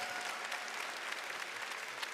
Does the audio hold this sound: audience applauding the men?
yes